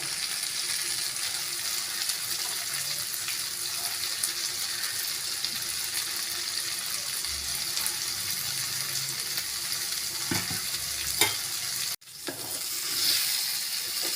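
Dried anchovies sizzle and crackle steadily in hot oil in a pan, with occasional stirring scrapes and a brief clunk near the end.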